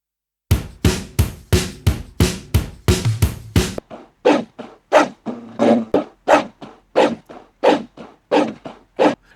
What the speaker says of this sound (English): do a dog bark aggressively.